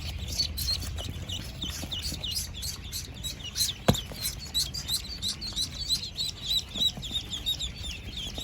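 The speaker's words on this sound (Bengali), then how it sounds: "এখানে যে হাঁসগুলো রাখা হচ্ছে এগুলো সবগুলো হচ্ছে খাকি ক্যাম্বেল" A crowd of one-day-old Khaki Campbell ducklings at a duck farm keeps up a continuous chorus of high, rapid peeping, with no talking.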